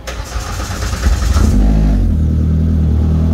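A Troy Lee Pro R fitted with a LaRue Performance turbo kit and stand-alone ECU cranks and fires up indoors, with a sharp rev that drops into a steady, loud idle.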